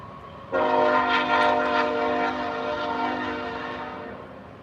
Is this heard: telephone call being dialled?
no